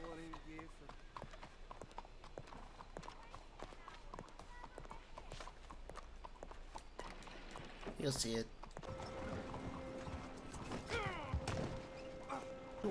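Horse hooves clip-clopping at a steady trot in the video game Red Dead Redemption 2, rhythmic thuds mixed with game sounds and people talking over them.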